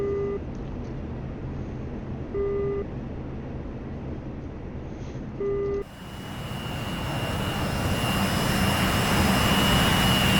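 Jet engine of a Cold War fighter in a realistic combat flight simulator game, a steady broadband roar at low power, with brief beeping tones over the first half and the noise brightening and swelling toward the end.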